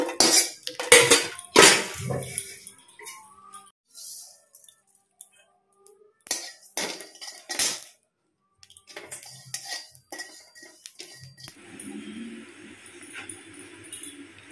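Garlic, dried chillies and nigella seeds dry-roasting in a pan, heard as repeated metallic clanks and scrapes of a spatula against the pan, separated by quiet gaps and followed by a faint hiss near the end.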